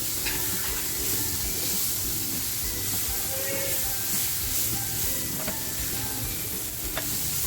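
Tomato masala sizzling as it fries in a pan, a loud continuous hiss and crackle with occasional clicks of a spatula against the pan, close up and with no talking.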